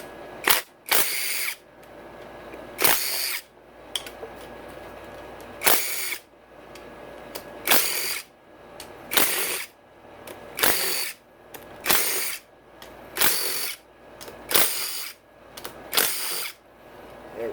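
Power tool backing out case bolts on a Honda CRF450R engine, about a dozen short whirring bursts spaced a second or two apart, close and loud, with no speech between them.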